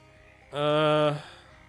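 A single short, buzzy frog croak from the video game Shadows Over Loathing rises out of near silence, lasts just over half a second, then stops.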